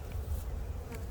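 Honey bees buzz steadily at a hive during installation of a package of bees, a continuous droning hum at close range with no voices.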